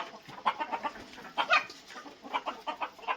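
A hen clucks in rapid, nervous bursts close by as her eggs are collected, the calls coming in quick clusters with brief pauses between them.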